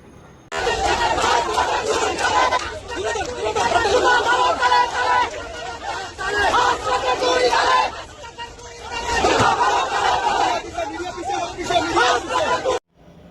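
Large crowd at a political street march against Hasnat Abdullah, shouting slogans in loud, sustained unison bursts with a brief lull midway, dense and close throughout.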